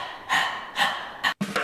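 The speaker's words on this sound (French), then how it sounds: "tirez la langue largement et vous allez faire une respiration du chien" Dog-like panting breaths from a yoga breathing exercise done with the tongue stuck far out: three or four sharp, breathy bursts in quick rhythm, close and fairly loud, with a brief silence near the end.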